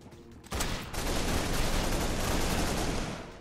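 AK rifle gunfire in the online shooter Arsenal rattles off in a loud, dense automatic burst that starts abruptly and continues steadily for about three seconds, with faint ambient noise just before the shots.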